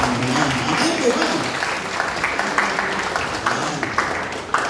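Church congregation applauding loudly at a sermon, a dense steady wash of clapping from many hands with a preacher's voice over it.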